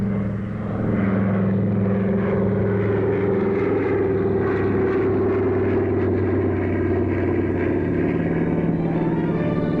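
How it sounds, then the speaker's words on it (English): A TWA Super Constellation propeller airliner taxis out at the airport, its piston engines droning loudly in a steady tonal hum that holds throughout. "we watched Sally's plane taxi out from the terminal at International Airport"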